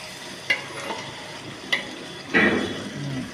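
Half a kilo of tomatoes fry in a restaurant pot for chicken salna, with a constant sizzle broken by a few sharp stirring clanks and a longer scraping stir near the end, with no voices.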